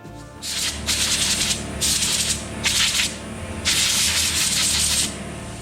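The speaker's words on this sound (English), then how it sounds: "get an air blower and just blow it out" Compressed air blower blasting a KTM 350 motorcycle engine clean during an oil change, four loud hissing bursts of varying length separated by short pauses, close up with no talking.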